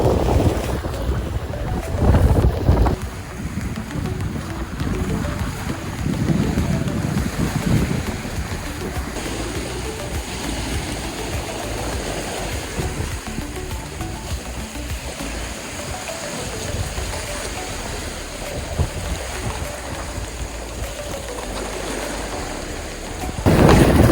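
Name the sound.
ocean waves colliding from both sides, Rock Islands, Palau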